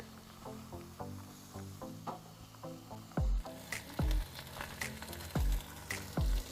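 Food sizzles on an outdoor grill with a steady frying crackle, interrupted by a few louder scraping and thumping handling sounds.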